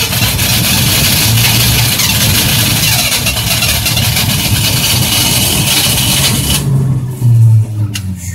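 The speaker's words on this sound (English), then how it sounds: "It's starting, but it keeps stalling out." A 1967 Ford Mustang engine cranks and fires after long storage, running roughly and loudly at close range for several seconds before it stalls out and drops away near the end.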